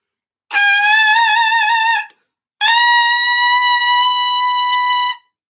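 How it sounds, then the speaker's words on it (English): Two sustained, loud, buzzy reed tones from an oboe reed blown on its own, each held about one and a half seconds with a short gap between, strong and bright with a wavering pitch. "Check your oboe reed, make sure it makes a sound."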